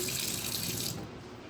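Tap water runs over bamboo shoots being washed, a close steady splashing stream that eases slightly near the end, with no talk.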